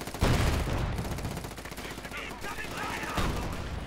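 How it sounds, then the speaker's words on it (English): Dense gunfire and heavy cannon blasts from a 75mm high velocity gun in the real-time strategy game Company of Heroes 2, a loud continuous battle clatter with booming hits. "This 75mm high velocity gun."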